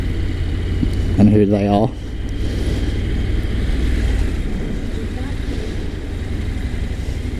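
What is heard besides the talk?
Honda NC750X motorcycle engine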